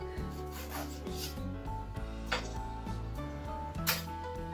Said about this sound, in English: remove the rest of the bead of the tyre from the rim